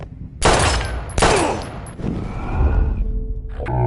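Bursts of gunfire in the video game Life is Strange, two sharp loud shots followed by a heavier rumbling volley, close and dominant with no talk.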